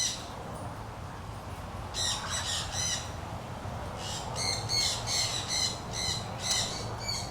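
An umbrella cockatoo, a female kept at an aviary bird shop, lets out bursts of harsh, grating squawks in two loose clusters over steady background hum, fairly close and loud.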